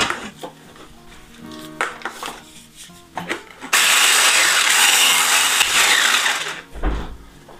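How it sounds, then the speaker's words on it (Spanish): A sugar mixture being beaten by hand for carnival rosquillas, a steady, loud scraping and whisking against the bowl that starts after a few quiet kitchen knocks and runs without pause to the end. "Y ahora vamos a batir."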